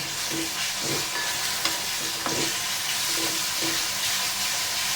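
Schezwan chutney stirred into a hot pan over medium heat gives a constant loud sizzle and hiss, with soft scraping stir strokes recurring through it and no talk.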